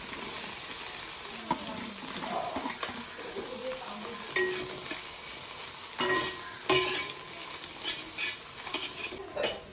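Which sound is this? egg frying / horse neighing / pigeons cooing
egg frying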